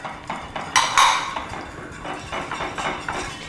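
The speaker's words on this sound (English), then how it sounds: "Just whisk those together" Whiskey and mustard marinade whisked in a bowl, with a run of quick metallic clinks and scrapes against the sides, loudest near the start and settling into softer, steady taps.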